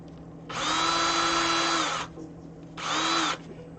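A Ryobi power drill used for diorama work whirs in two bursts, a long run of about a second and a half and then a shorter one, loud and close with no talk.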